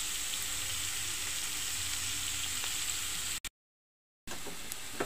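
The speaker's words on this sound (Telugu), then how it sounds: "పొట్లకాయ వేగిపోయింది కదండి." Snake gourd fries in a pan with a steady, close hiss and sizzle that cuts out briefly to silence before resuming.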